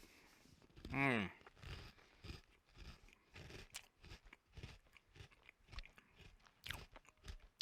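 Close, quiet chewing of a soft mystery Oreo cookie: one sharp bite followed by repeated moist mastication sounds in an irregular rhythm.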